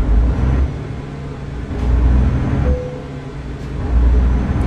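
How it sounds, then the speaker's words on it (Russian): A low truck engine rumble runs throughout in Euro Truck Simulator 2, swelling and easing in waves as the heavy vehicle starts, idles and revs, close and fairly loud. "Включаем двигатель и поехали дальше."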